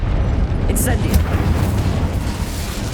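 Incendio, a fire spell from the Hogwarts Legacy video game, bursts out as a low, rumbling whoosh that carries steadily throughout. A couple of brief brighter crackles appear near the start, and no talking is heard.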